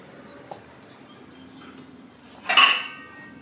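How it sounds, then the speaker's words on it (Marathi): Metal plates (steel thalis) are gathered and stacked indoors: a single light clink early on, then a louder, brief clattering pile-up of plates near the end over a quiet room. "सगळी ताटं गोळा करून काय करणार आहे तू?"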